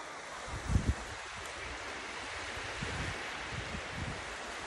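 Waves wash onto the beach at Permai Rainforest Resort in Sarawak, Borneo, a soft continuous surf hiss mixed with wind, with a couple of brief low thuds near the start.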